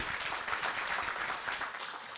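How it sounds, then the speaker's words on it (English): Audience applause at an agricultural symposium in Uganda, a steady wash of many hands clapping together for the full two seconds, moderately loud and fairly even with no voices on top. "let's give him a round of applause."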